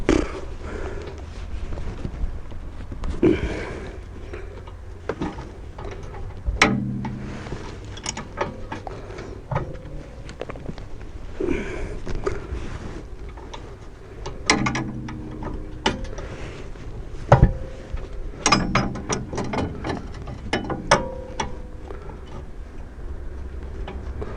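A wrench works loose the lower 21 mm bolt of a Golf V rear shock absorber, giving repeated ratcheting clicks and metallic knocks at close range, with no talk.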